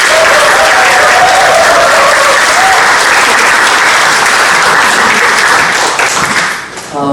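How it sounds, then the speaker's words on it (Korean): A church congregation applauds loudly to welcome the pastor to the front, dense steady clapping filling the room and fading near the end. "우리 목사님 나오실 때 크게 박수로 우리 환영하도록 하겠습니다."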